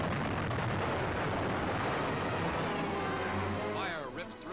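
Naval anti-aircraft guns blaze as a fleet defends a veteran carrier against a low-flying kamikaze plane: dense, continuous roaring barrage of loud gunfire and blasts throughout, with a rising whine near the end.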